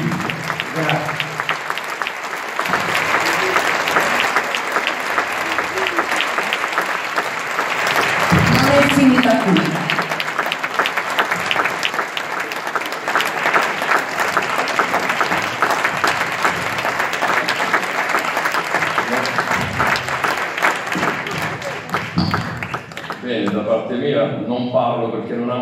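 Sustained applause from a concert audience for the Orchestra Filarmonica Pugliese, a dense, steady wash of clapping lasting over twenty seconds before it thins out near the end.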